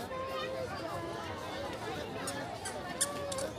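Crowd chatter fills Chaurasta, the busy square in Darjeeling: many overlapping voices form a steady, close murmur, with occasional louder calls and a brief knock.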